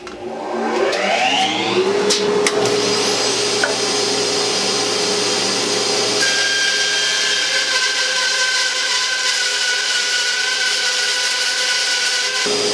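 A 1948 Delta/Rockwell Milwaukee 14-inch band saw runs with a dust collector hooked to its port, giving a steady, loud mechanical whir and a whine that climbs as it spins up, then holds constant with no talking.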